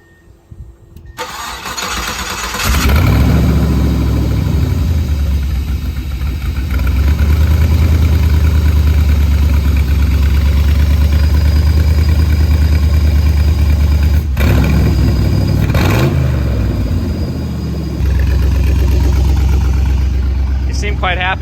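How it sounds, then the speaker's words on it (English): A deep 5.3 LS V8 engine swapped into a 1995 Subaru Impreza ute rumbles loudly and steadily at idle after starting up, with a throaty exhaust tone and a brief revving swell partway through. "So that's where all the exhaust noise comes from."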